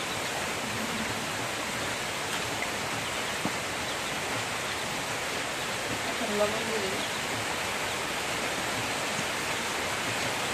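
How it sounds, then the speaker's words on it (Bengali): Steady rain falls outside a home overnight, a continuous broadband hiss with a light rushing texture, while a person speaks briefly over it. "কেমন করে বৃষ্টি পড়তেছে"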